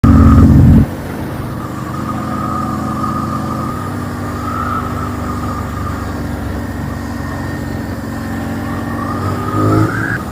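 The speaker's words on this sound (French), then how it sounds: "je vois un mec qui fait des donuts et tout" A car doing donuts, its engine droning steadily while the tyres squeal in a long sustained skid, loud and continuous with a sharper burst at the start and a rise near the end.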